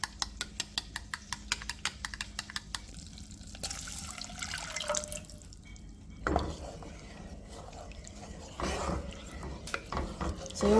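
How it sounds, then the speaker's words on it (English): A spoon stirs macaroni with cheese sauce, milk and starch in a pot, giving soft liquid swishing and scraping after a run of regular tapping clicks, with light knocks against the pot. "you want to start to mix this as soon as you add in your starch"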